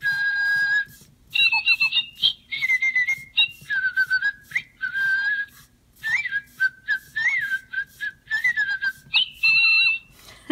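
A bright electronic whistling melody from a toy pet bird plays in short, chirpy phrases with brief gaps, like a toy bird singing a tune, close and clear with no talking.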